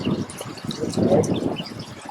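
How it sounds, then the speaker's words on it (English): Water runs up and over a settling tank and spills out through its holes, a bubbling, trickling flow with uneven surges, sounding close and moderately loud. "The water is running up and over and out them holes."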